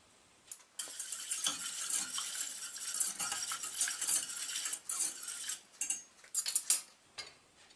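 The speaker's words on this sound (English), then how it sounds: "I whisk to incorporate the roux into the stock." A whisk scrapes and clinks against a metal pot while roux is worked into stock, a close, rapid metallic rattling that starts after a short pause and runs unevenly with brief breaks, with no talk.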